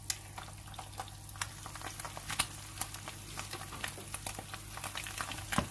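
Food crackles and spits in a hot pan, a steady busy sizzle with scattered sharp pops, fairly quiet and with no voices.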